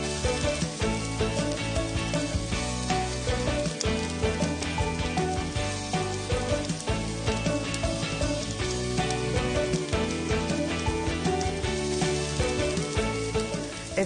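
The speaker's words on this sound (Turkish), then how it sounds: "Ocağımızın altı gayet iyi, orta ateşte kızartalım şöyle." Bulgur hunter's börek frying in oil over medium heat, a steady, dense sizzle that carries on without a break for the whole stretch, close and fairly loud, with no voices over it.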